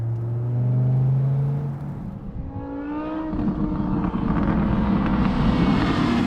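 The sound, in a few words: BMW M6 V10 straight-piped exhaust with dumps closed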